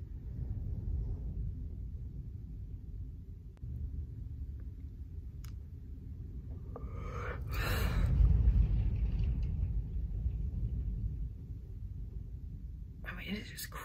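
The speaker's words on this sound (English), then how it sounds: "it is just crazy storming out there" Gusting wind storm shaking a house: a steady low roar with a stronger surge around the middle, heard from indoors, with no speech.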